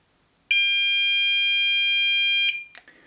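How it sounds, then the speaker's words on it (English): The anti-theft alarm on a Ravemen NT101 rear bike light lets out one loud, high, piercing steady beep lasting about two seconds as the lock is set. A short click and some faint handling noise follow. "So I'm going to press and hold the lock button."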